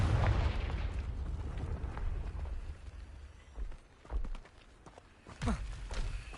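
A Confringo fire spell in Hogwarts Legacy bursts with a deep, rumbling explosion up front, then several quieter thuds and impacts follow as the blast dies away.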